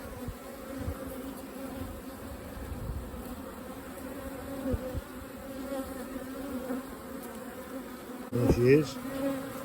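Honey bees trying to swarm drone in a hive, a soft continuous buzzing hum throughout, with someone speaking briefly near the end.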